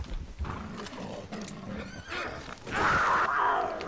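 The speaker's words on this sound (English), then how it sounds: "Fucking horse!" A horse whinnies loudly and close by, the neigh swelling in the second half over a busy outdoor background with hoof clatter, in the middle of an encounter with a cougar.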